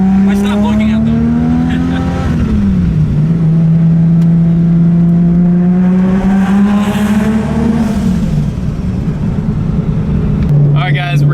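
A 1000+ horsepower 1994 Toyota Supra engine drones loudly and steadily, its pitch climbing, dipping sharply, then holding and rising again through a long rev, with voices audible underneath.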